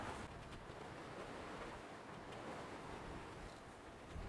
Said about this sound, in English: Sometimes the waves are shaking us from side to side.